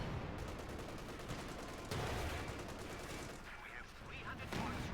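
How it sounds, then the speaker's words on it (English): Panther tank's high-velocity cannon firing on a Churchill tank in the Company of Heroes 2 battle game, heard as loud sharp gunfire cracks layered over dense continuous battle noise of explosions and shooting. "Shoots, penetrates the Churchill's armour easily."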